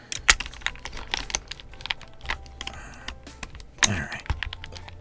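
Typing on a KiiBoom Phantom68 mechanical keyboard with a pink transparent case and tight polycarbonate keycaps, heard close up as a steady run of clacky keystrokes with a few louder, sharper strikes and no talking.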